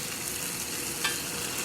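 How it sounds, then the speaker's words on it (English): Sichuan potatoes stir-frying in hot oil in a wok, a steady close sizzle with a faint scrape of stirring near the middle. "Nice loud sizzling is what you want."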